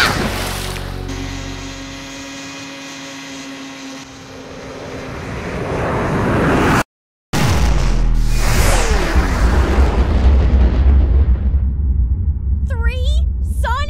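A cartoon sonic rainboom erupts as a loud, roaring whoosh that bursts in right after a moment of silence and rumbles on, with voices and music heard earlier.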